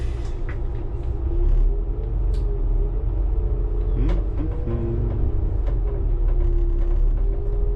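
A minibus on its route creeps through slow, congested traffic, its engine a low steady rumble up close, with occasional brake hisses and passing vehicles nearby.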